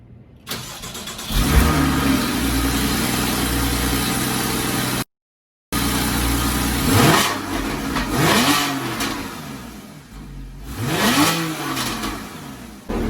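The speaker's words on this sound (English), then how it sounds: "But first, a cold start." A Porsche 981 Cayman engine cold-starts with a loud crank and catch, then settles into a high, steady fast idle with a few sharp revs, interrupted by a brief cut of silence.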